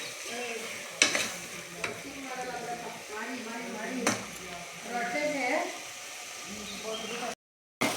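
Ingredients are stir-fried dry in a pan for tomato bath with field beans, giving soft sizzling and repeated scraping stirs, with a few sharper knocks of the spatula against the pan.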